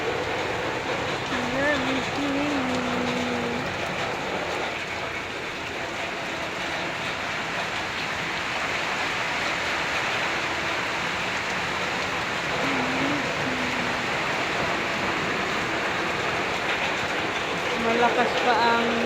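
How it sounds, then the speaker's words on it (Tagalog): Steady, continuous rain hisses throughout, close and fairly loud, with a voice speaking intermittently underneath. "Ulan isang araw lang, hindi na maghinto."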